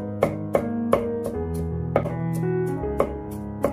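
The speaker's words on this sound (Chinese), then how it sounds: "然后剁成蒜末，这样蒜香味更加的浓郁" A kitchen knife chopping garlic into mince on a cutting board, about ten sharp, evenly spaced chops under steady background music, with no talk.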